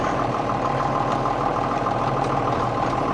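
A John Deere 6610 tractor engine, just after starter and solenoid repair, runs at a steady idle, a continuous close, loud rumble with no speech.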